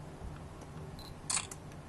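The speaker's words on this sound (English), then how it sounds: "I'll press the shutter." A Canon PowerShot G15 compact camera fires its shutter, a quick soft electronic click with a brief double snap, close and quiet against faint room noise.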